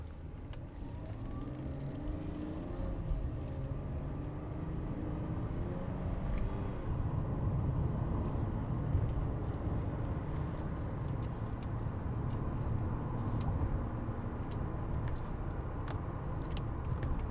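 A 1999 Mercedes-Benz accelerates while driving, a quiet, smooth low engine and road hum that builds gently and holds steady inside the cabin, with faint clicks and no talk.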